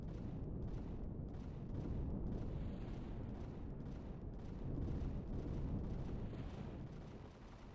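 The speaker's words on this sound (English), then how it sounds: "not sure what these guys are firing at, but firing in all directions at the moment" Faint, distant rumbling gunfire from enemies in the space survival game Empyrion Galactic Survival, a steady muffled barrage of thuds and booms rolling continuously in the background.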